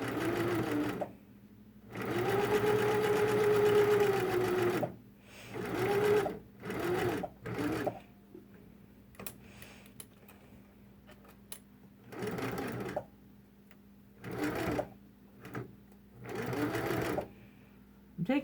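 A sewing machine stitches through thick layers of a pinned fabric face mask in several loud, close bursts of whirring, some long and some short, separated by pauses.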